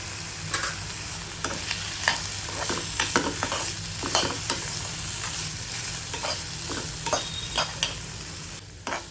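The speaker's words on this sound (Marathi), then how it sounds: "आता याला 2 ते 3 मिनिटं छान परतून घेणार आहे मी" Bitter gourd sautéing in a pan with a steady sizzle, broken by repeated sharp scrapes and stirring clicks of a spatula at irregular intervals, close and alone.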